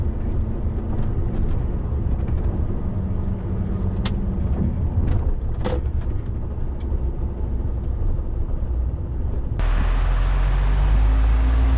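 A truck towing a trailer pulls in close to the curb, its engine a steady low rumble throughout with road noise, then a sudden louder low-end surge near the end as it settles.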